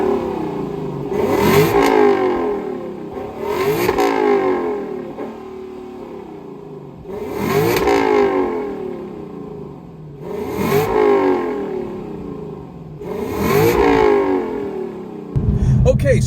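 A Lexus LC500 grand tourer with a V8 engine revs up and accelerates while driving, in five repeated surging pulls roughly every two to three seconds, each rising then easing off, heard fairly close and loud with no talking.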